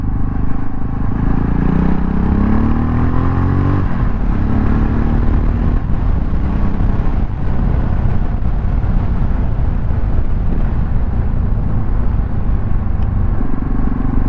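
Yamaha Tenere motorcycle engine running steadily up close with wind rumble, its pitch rising then dropping at gear changes near 4 and 6 seconds before settling into a constant drone.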